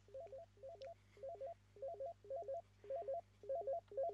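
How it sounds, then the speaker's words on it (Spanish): A phone ringtone in the video game Night Blights repeats as a steady pattern of short melodic trills, eight bursts evenly spaced over a faint low hum. "¿Que me llaman por teléfono?"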